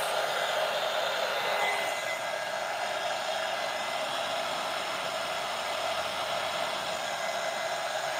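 A hair dryer blowing steadily up close to quick-dry an alcohol ink jellyfish painting, giving a loud, continuous airy whoosh that holds nearly unchanged throughout, alone without talk.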